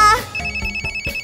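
A cartoon telephone rings with a bright repeating electronic ringtone, several short pulses in a steady rhythm, loud and close, as a friend is called in a children's animated musical.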